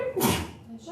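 A single sharp sneeze bursts out in a chemistry lecture classroom, brief and fairly loud against the quiet room.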